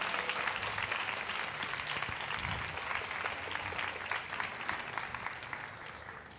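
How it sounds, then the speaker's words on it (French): A crowd applauds at a women's entrepreneurship summit in Dubai, with sustained, even clapping from a large audience heard at moderate volume for the whole stretch. "S'il vous plaît, on fait un tonnerre d'applaudissements."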